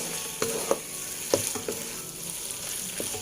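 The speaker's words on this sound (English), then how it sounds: "A very simple way of frying Kue Teow." Flat kway teow noodles sizzle in a hot pan while a utensil scrapes and tosses them, a few sharp clanks over the steady frying hiss.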